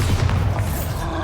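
In the video game Hogwarts Legacy, a Bombarda spell explodes with a loud, deep boom and a rumbling crash that sustains heavily throughout.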